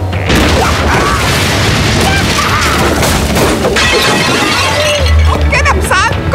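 Heavy combo strikes land in the Kung Fu Panda video game, a dense, loud run of booming impacts and crashing hits with shattering debris, layered with game effects and occasional voices throughout.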